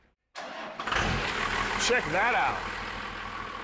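An early 80s Chevy pickup fitted with an early 90s Cummins 12-valve diesel cranks and fires up, settling into a steady, close, rumbling idle after the start, with someone talking over it.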